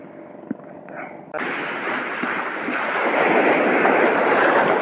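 Rough sea waves wash against a rocky shore under a strong southwest wind while fishing, a sudden loud surge of broadband surf building and staying heavy, with wind buffeting the microphone and no speech.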